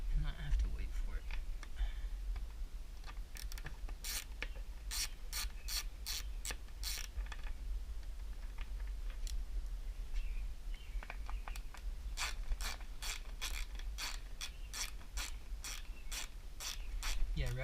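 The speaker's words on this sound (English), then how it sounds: "ratchet screwdrivers, definitely very good investment" A ratchet screwdriver works on the carburetors of a 2000 Honda CBR 600 F4 motorcycle, its pawl clicking in rapid rhythmic runs of sharp ticks, close and steady over a constant low hum.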